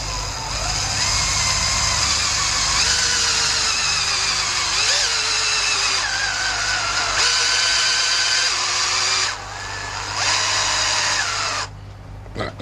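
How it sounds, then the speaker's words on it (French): An electric drill whirs steadily and continuously, close and loud, slowly turning the ignition cam of a Motobécane moped engine for several seconds, its pitch wavering slightly before the motor slows near the end. "maintenant je vais faire tourner doucement la perceuse, quelques secondes, jusqu'à ce que la cam se bloque"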